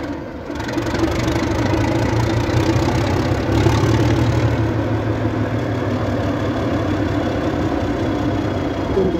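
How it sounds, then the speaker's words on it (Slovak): A locomotive's upright 6-cylinder turbocharged diesel with 310 mm bore and 1500 horsepower runs with a loud, steady, low-pitched barking throb, close and constant for the whole stretch with no voices. "typický štekavý zvuk toho 6-válca 310-kového motora"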